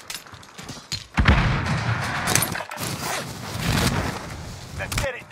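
Original in-game gunfire from a competitive shooter crackles in dense bursts and heavy thuds, with a voice talking over parts of the action.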